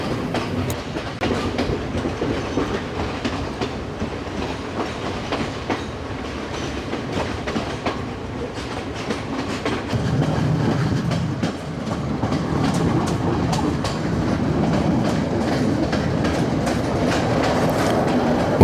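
Train rolling along a Sri Lankan mountain railway toward Demodara and the Nine Arch Bridge, a steady loud rumble with rhythmic clickety-clack of wheels over rail joints, growing heavier and denser in the second half.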